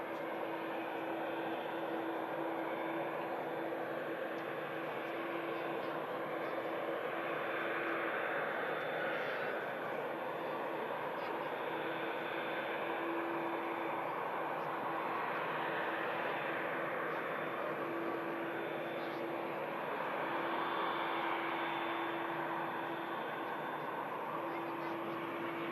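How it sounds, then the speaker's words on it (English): ATR turboprop touching down at Manchester Airport, a faint, steady propeller drone with a constant tonal hum, distant and continuous, no voices over it. "Effortless touchdown from the ATR."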